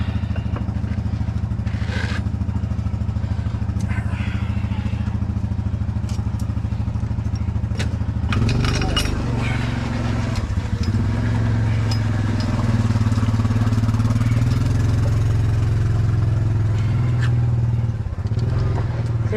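A small impact gun works on the clutch of a Polaris RZR XP 1000 during an inner clutch cover reseal, starting partway through with a loud, rattling buzz that continues close up after quieter workshop noise.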